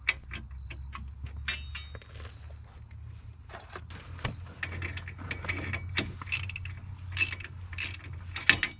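A ratchet wrench clicks in rapid bursts as a bolt is tightened during a wheel bearing installation, close and crisp over a low background hum, with several separate runs of clicking and short pauses between them.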